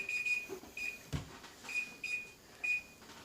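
Several short, thin electronic beeps from an oven timer sound in quick pairs at moderate volume over a faint background hum.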